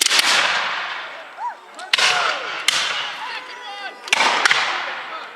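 A gun crew at a War of 1812 reenactment fires, producing four sharp, loud reports spaced a second or two apart, each trailing off in a rolling echo across open ground.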